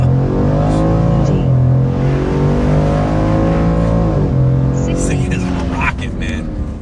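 A 2021 Ford F150 pickup in four-high and sport mode is held at about 2,000 rpm and then launched hard. The engine climbs loudly through rising, gear-shifting sweeps, with some talk underneath.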